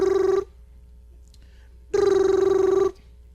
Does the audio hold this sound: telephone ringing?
yes